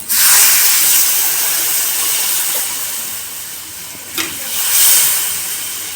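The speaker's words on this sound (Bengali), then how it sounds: "সবজির সাথে তো এবারে আমি দিয়ে দেবো পরিমাণ মতো জল" Water is poured into a hot pan of sautéed vegetables and fried shrimp, setting off a loud, close, broad hiss and sizzle that slowly fades, with one short clatter partway through.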